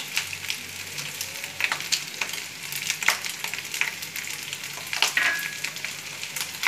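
Bengali-style fried rice seasoned with a little black pepper sizzles in a pan, with a constant frying hiss and frequent scraping stir strokes close by.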